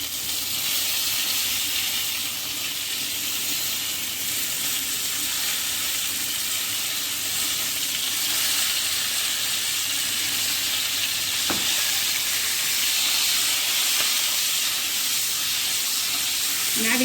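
Cucumber pieces cook in a pan over a mustard seed and cumin tempering, producing a constant hissing sizzle with a single sharp clink partway through.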